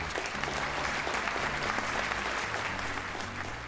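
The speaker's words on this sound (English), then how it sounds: "Big round of applause." Crowd applause fills a hall at a school investiture and awards ceremony, a dense, even wash of many hands clapping, sustained and moderately distant, with no distinct voices.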